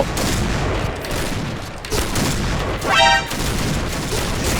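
Rapid gunfire rattles through a dense, loud barrage in the Point Blank shooter game, with a burst of sharper repeated shots standing out near the middle over the continuous noise of battle.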